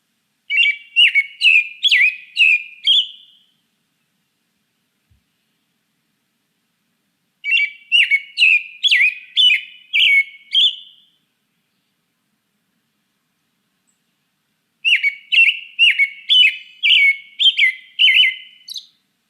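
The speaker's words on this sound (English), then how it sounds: "The robins are whistlers." American robin whistling its song in three separate phrases, each a quick run of clear, repeated whistled notes lasting a few seconds, with silent pauses between and no other sound.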